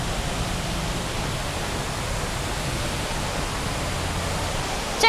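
The huge indoor waterfall at Jewel Changi Airport in Singapore roars as a steady, dense, unbroken wash of falling water, loud and constant throughout.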